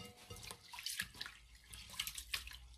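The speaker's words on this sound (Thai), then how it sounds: "ก่อนอื่นเราก็ต้องล้างข้าวก่อนนะจ๊ะ" Half a kilo of Japanese rice is washed in water, making soft, close swishing and sloshing with grains stirred by hand, without voices.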